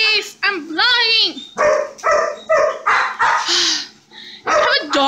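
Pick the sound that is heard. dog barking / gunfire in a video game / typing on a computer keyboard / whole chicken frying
dog barking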